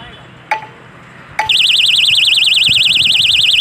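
A knock door bell pressed against a railway track picks up vibration: two sharp taps sound first, then a loud, continuous warbling electronic alarm takes over and holds steady.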